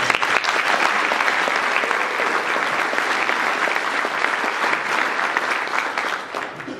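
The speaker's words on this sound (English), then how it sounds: "Let's give applause to the staff." An audience at a keynote speech event claps loudly and steadily, a dense wash of applause that holds for several seconds before tapering slightly at the end.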